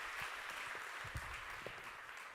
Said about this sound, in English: one round of applause for our panelists